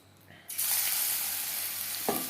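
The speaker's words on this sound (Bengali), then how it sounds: "শ্যালো ফ্রাই করছি আপনারা চাইলে ডিপ ফ্রাইও করতে পারেন" Jute leaf pakora batter goes into hot refined oil for shallow frying, setting off a sudden loud, close sizzle that holds steadily after a quiet start.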